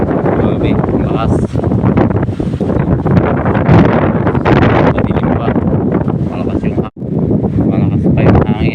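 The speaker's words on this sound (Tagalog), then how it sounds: "Malakas pa yung hangin." Strong typhoon wind roars and buffets the microphone with loud, continuous gusting noise, during a storm that tore roofs off houses, while someone speaks briefly over it.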